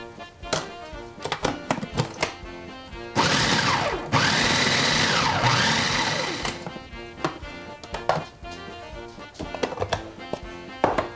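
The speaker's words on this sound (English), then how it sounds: "Now we take the 4th layer and we put this into our food processor. Because this we're going to take and grind up so we can get cake crumbs." Food processor grinding a baked cake layer into crumbs for a Black Forest cake: rattling, clattering pulses and a sustained whirring run of several seconds in the middle, with no talk.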